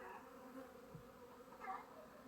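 Carniolan honeybees hum steadily across a spring apiary, a continuous low buzzing drone with slight swells, moderately distant and free of speech.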